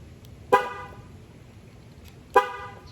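Jeep Gladiator horn gives two short, sharp chirps about two seconds apart as the truck locks from the key fob, heard nearby over a steady outdoor background hum.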